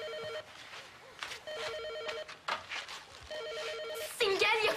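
A telephone rings in a home in three bursts of rapid electronic trills separated by pauses. Voices speak between and over the rings, and a louder burst of sound comes at the end.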